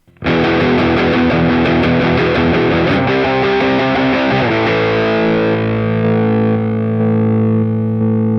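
Loud distorted electric guitar through a Boss Katana MK2 amp with the graphic equalizer on strums a quick riff, then lets a final chord ring out and slowly fade, bright and full, with no talking.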